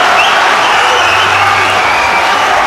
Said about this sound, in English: The crowd coming unglued here.